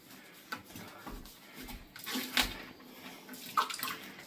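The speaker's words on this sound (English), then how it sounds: "let me get a little bit of water" Water running briefly from a tap to wet a mortar mix, a light splashing trickle with a few soft clinks, close by and fairly quiet, no talking.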